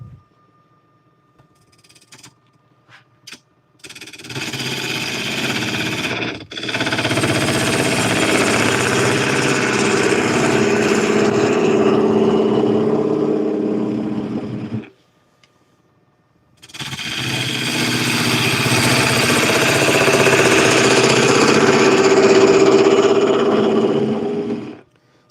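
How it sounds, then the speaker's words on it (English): A wood lathe spins a bowl while a bowl gouge cuts it, making a loud, steady rough roar that runs for several seconds, stops briefly, then resumes just as strongly. "Still working on my technique with a bolt gouge, but I'm getting there."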